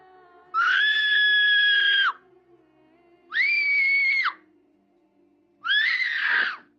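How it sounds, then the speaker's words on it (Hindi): Three drawn-out screams from a young girl echo out of a nearby cave, each lasting one to two seconds with short silent gaps, loud and shrill over a faint low hum. "करीबी गार से एक लड़की की चीख सुनाई दी।"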